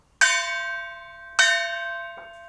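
Two loud metallic bell strikes on a wall-mounted outdoor music wall, about a second apart, each ringing out with long sustained tones, followed by a softer third tap.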